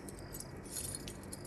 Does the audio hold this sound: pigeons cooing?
no